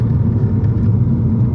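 A turbocharged, upgraded VW GTI of about 400 hp pulls hard in second gear on a canyon road, a steady low engine rumble droning continuously inside the cabin.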